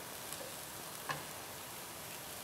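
Bacon cooking with onions and peppers in a pan, giving a faint, steady sizzle and crackle with a few soft ticks throughout, no voices.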